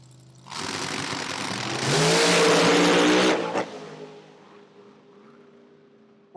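A race car at a drag strip roars into a loud, sustained howl as it launches and blasts down the track, peaking for a second or two before cutting off and fading into distant rumble.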